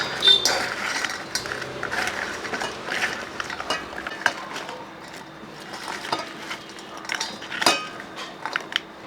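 A sweet seva mixture is stirred in a bowl, with irregular scraping, clinking and tapping of a utensil against the dish heard close up and fairly soft.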